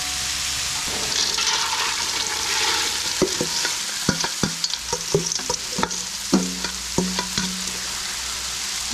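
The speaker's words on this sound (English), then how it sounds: "Give that a little stir." Mixed vegetables stirred into a pot of hamburger soup, a steady hiss with a run of close utensil knocks and scrapes against the pot in the second half.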